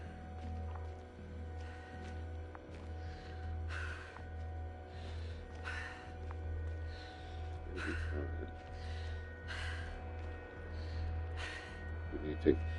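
In The Invincible video game on PS5, a character breathes heavily and gasps, with rhythmic breaths about once a second that are steady and close, over a low, constant background hum.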